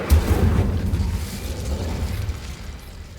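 Incendio fire spell cast in Hogwarts Legacy, a loud whooshing burst of flame with a low rumbling roar that swells at once and then slowly fades over a few seconds.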